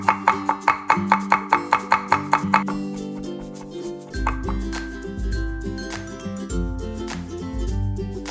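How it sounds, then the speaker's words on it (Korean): A knife minces garlic on a cutting board for a cucumber side dish. About a dozen quick, even chops sound up close, then give way to other sounds. "마늘은 칼면으로 누른 후 다져주세요."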